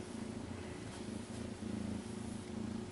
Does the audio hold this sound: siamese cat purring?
yes